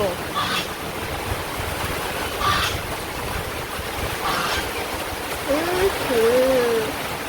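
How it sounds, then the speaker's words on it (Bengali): A steady, heavy rush of rain fills the scene, with faint voices occasionally breaking through the constant downpour. "যখন বৃষ্টি আসলো তখন এত জোরে বৃষ্টির শব্দ"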